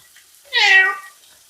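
A kitten in a kitchen gives one clear, high meow lasting about half a second, close and loud against a near-silent background.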